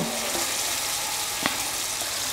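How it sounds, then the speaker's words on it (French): Vietnamese nems (spring rolls) deep-frying in hot peanut oil give a steady, even bubbling sizzle throughout, with a few soft clicks as the rolls are moved. "Et je vais tremper mes jolies petites nems pour un bain de 5 à 10 minutes."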